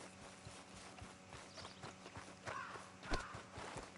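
Horse hooves clip-clopping at a walk in Red Dead Redemption 2, a faint, steady rhythm of soft hoof falls under a low ambient bed.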